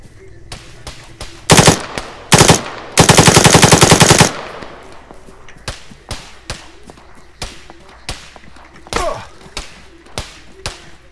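Gunfire in Arma 3 Battle Royale: sharp single shots keep cracking through the clip, broken by two short bursts and a longer rapid automatic volley, loud and close, with a faint voice in the background.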